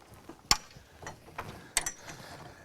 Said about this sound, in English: we got a good bite on it. And as you can see, Jeep is raising.